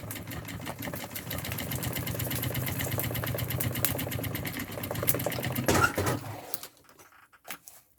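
A sewing machine stitches a thermal double-compartment backpack with a fast, steady mechanical whir that runs for several seconds, then stops abruptly, leaving a few faint clicks and handling noises.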